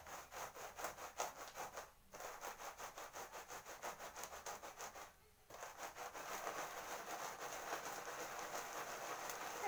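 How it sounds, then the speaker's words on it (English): A hot iron's burnt bottom plate is scrubbed back and forth over salt in fast, even rasping strokes. The strokes stop twice briefly, and the faint steady scraping is heard alone. "We scrub the iron box on the salt."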